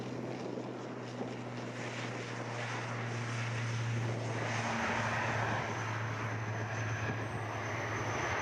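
An ATR turboprop airliner lands at Edinburgh airport, its propellers giving a steady droning hum with a sustained low tone under a broad wash of engine and wind noise, fairly distant and even, no voices.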